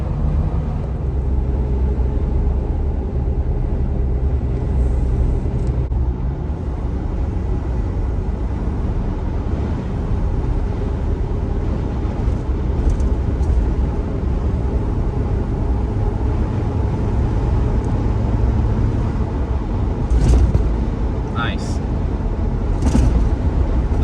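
A two-door Jeep JL on 37-inch tires cruises at 75 mph, filling the cabin with a constant low road roar and engine drone, plus steady tire hum and wind noise throughout.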